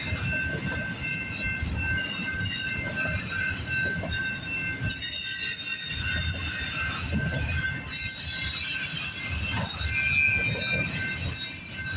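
A CPKC freight train with a BNSF unit rolls past at Guelph Line in Campbellville, its wheels squealing in sustained high whines over a steady rumble and rattle of the cars.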